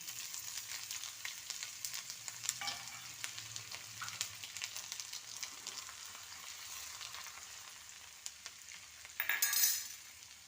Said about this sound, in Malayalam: ഇനി അതിലേക്ക് ഇഞ്ചി ഇട്ട് കൊടുക്കാം.